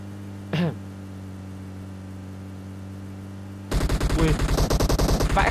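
Rapid burst of automatic gunfire in the PUBG Mobile battle royale game, a dense run of sharp repeated shots breaking in after a quiet stretch with one brief earlier noise.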